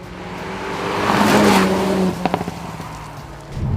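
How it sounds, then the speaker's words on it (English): A 2018 Jaguar F-Type sports car with a four-cylinder engine drives by, a loud engine note swelling and then fading, followed by a few sharp crackles from the exhaust. "It actually sounds like a proper little sports car."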